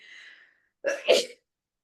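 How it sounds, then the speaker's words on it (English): A single sharp sneeze, a quick two-part burst after a brief faint sound, then silence. "Pardon me, I'm gonna sneeze."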